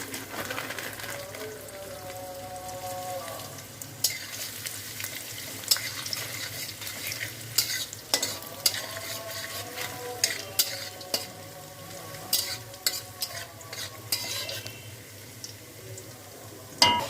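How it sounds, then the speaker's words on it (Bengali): Raisins fry in oil, a steady background sizzle with intermittent spatula scrapes and clinks against the pan, moderately loud and close. "এবার কিশমিশ ভেজে নেব"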